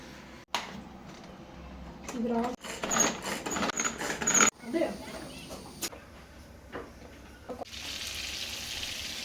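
Chopped onions sizzle and crackle in a pan for pav bhaji as they are stirred, with scraping bursts, faint clatter and people talking over the cooking.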